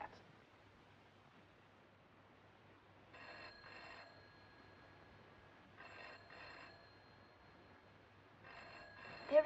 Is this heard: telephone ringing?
yes